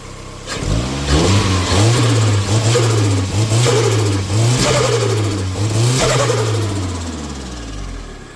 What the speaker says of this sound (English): I'll give it a couple little revs.